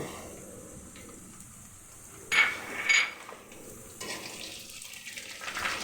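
Onions fry in a pan for a Bengali brinjal chorchori dish, a faint, steady sizzle broken by two sharp metallic knocks of a utensil against the pan.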